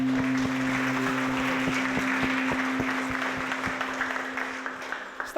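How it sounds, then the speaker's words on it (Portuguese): Church congregation applauding during a Sunday worship service, a steady dense patter of many hands held for several seconds, mixed with a sustained low musical hum and tapering slightly at the end. "Aplauda o Senhor nesse momento."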